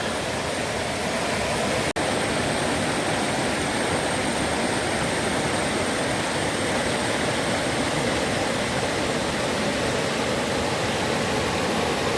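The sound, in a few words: Madatharuvi waterfall, Ranni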